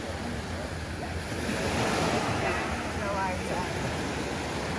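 Ocean waves washing onto a sunny beach, a steady broad roar of surf with wind buffeting the microphone, continuous and fairly close, with faint voices mixed in.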